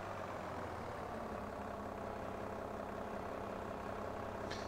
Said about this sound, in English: Nice tractor, though.